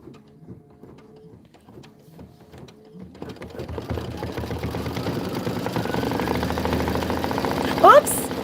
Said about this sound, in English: Let's just stitch away.